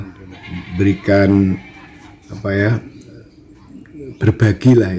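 Goats on an Indonesian goat farm bleat loudly in several separate, wavering calls close by, with short quieter gaps between them and a cluster of overlapping cries near the end.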